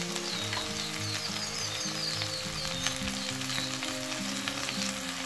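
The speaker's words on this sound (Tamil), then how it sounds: "வெண்டைக்காயை நல்லா கிண்டி விட்டுக்கிட்டே இருக்கணுங்க" Okra, or lady finger, fries in a pan while being stirred, giving a steady, close sizzle throughout with light scraping, under soft background music.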